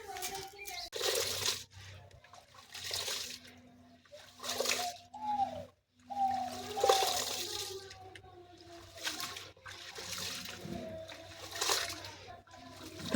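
Soaked wheat grains are rubbed and washed by hand in water, with intermittent sloshing and splashing bursts nearby and a voice between, plus a faint steady hum.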